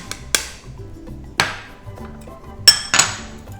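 A utensil mixes low-gluten flour, matcha powder and baking powder in a bowl for a matcha pound cake. It gives a few loud, ringing clinks and knocks against the bowl, with soft scraping between them and no talking.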